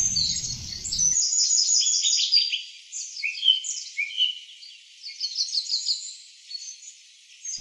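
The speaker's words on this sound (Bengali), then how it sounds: "পাশাপাশি পাখির কলরব শুনতে বেশ মিষ্টি লাগছে" Several birds chirp and trill in quick, high-pitched bursts, fairly close in a village, with a brief low rumble at the start before the calls continue alone.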